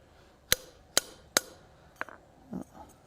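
A hammer strikes hot steel while a Santa ornament's beard is forged: three sharp, evenly spaced ringing blows close by, then two lighter taps, with no talking.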